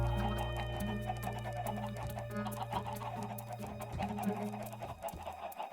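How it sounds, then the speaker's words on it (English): Minecraft chickens in a survival-mode farm cluck repeatedly in quick, overlapping bursts over a steady low hum and ticking game sounds, fairly quiet with no talk. "chickens are getting everywhere"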